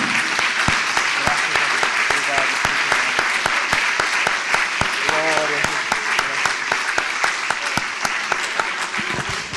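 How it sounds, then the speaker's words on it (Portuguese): A church congregation applauds together in a sustained, dense burst of clapping that fills the room from start to finish, with voices faintly mixed in underneath. "então dê um aplauso a Jesus"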